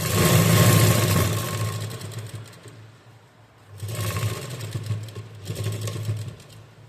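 Sewing machine running a seam on a gathered umbrella frock, a close mechanical whirr in sustained bursts with a brief dip in the middle before starting again.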